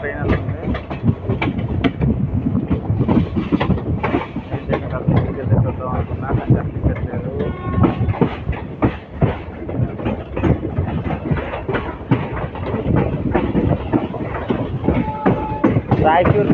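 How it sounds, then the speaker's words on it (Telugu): The Raichur Parbhani Express passes nearby, heard as a loud, gusty rumble of rolling wagons and rhythmic clatter with wind buffeting, while someone talks over it. "Yes, Raichur Parbhani express."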